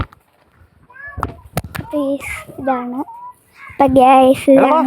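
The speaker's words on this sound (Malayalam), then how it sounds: "കോഴിനെ പിടിച്ച് കയ്യിലേക്ക്" A chicken being caught and picked up by hand clucks and squawks repeatedly up close, its calls growing louder toward the end, while a voice and sharp handling noises mix in.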